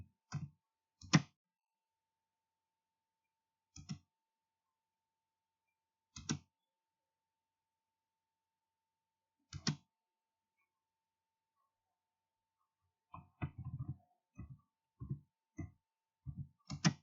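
Computer keyboard keys clicked while AutoCAD drawing commands are entered: short isolated bursts of clicks spaced a few seconds apart, then a quicker run of closely spaced taps near the end, all close and fairly quiet with no talking.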